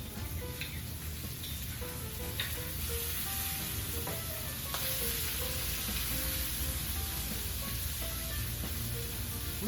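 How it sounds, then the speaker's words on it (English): Garlic added to sautéing peppers and onions for smothered cabbage: a constant, dense sizzle of frying vegetables, close and steady for several seconds, with a few faint clinks and a slight swell midway, no voices. "Now that our peppers and onions have sauteed, I'm going to add my teaspoon of garlic."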